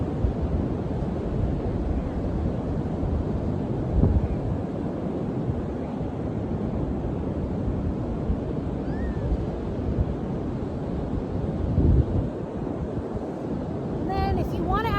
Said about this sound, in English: Listen to that gorgeous ocean.